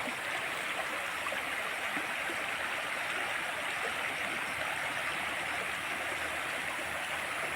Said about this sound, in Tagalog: Maliit na po pala yung sapa dito sa amin.